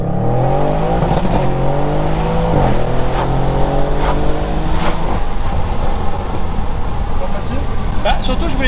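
A 750-horsepower Audi RS6 accelerates hard with a loud, close engine roar climbing through gear changes, its pitch dropping at each shift before rising again, under intermittent talking.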